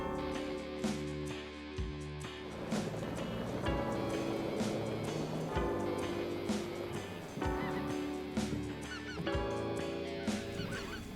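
Geese honking repeatedly on a duck and goose hunt, a loose overlapping chorus of nasal honks at moderate distance that continues throughout with no talk.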